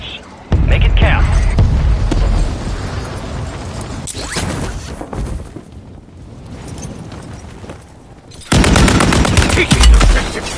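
Automatic gunfire in the Warzone battle royale shooter, sustained loud bursts near the start and again at the end, with quieter stretches of distant shots and game noise in between.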